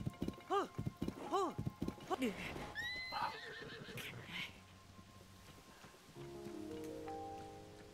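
Horse whinnies twice in quick succession in The Legend of Zelda: Tears of the Kingdom, followed by hoof clatter and scuffling, with game ambience and a low hum carrying on afterward.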